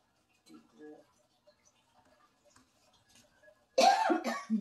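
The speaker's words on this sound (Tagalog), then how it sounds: "Inuubo nga ako." A person coughs loudly and close in a short burst near the end of the clip, following quiet scattered sounds and faint indistinct voices in a cold, rainy setting during home sunroom flooring work.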